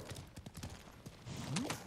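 Horse hooves in a video game clip-clop at a steady trotting rhythm, close and fairly soft, with a brief rising tone partway through.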